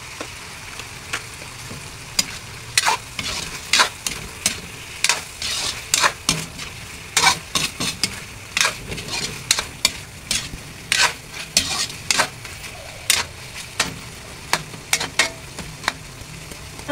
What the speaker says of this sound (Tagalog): Gisa lang natin mabuti para masarap